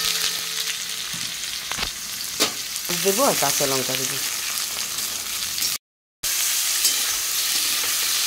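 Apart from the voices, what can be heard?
onions frying in oil with black cumin in a wok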